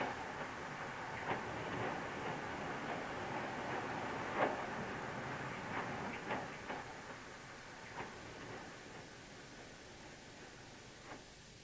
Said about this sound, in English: A clay train down from Torrington along the Tor, the only remnant of line beyond Barnstaple.